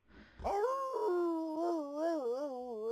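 A dog in The Sims 3 video game whimpers and whines in a long, wavering, high-pitched cry that rises and falls, loud and close, with no talking.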